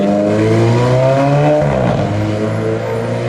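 A loud supercar engine revs hard, its note dropping abruptly at each upshift then climbing again, a raspy, burbling exhaust close by.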